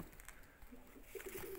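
A pigeon coos softly in a loft, a few low, rounded coos near the end over quiet background hiss.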